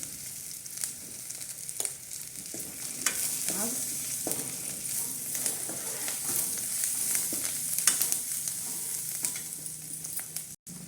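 Chickpea seasoning with curry leaves and turmeric frying in a pan, a steady sizzle broken by scraping stirs and occasional spoon knocks against the metal, no speech.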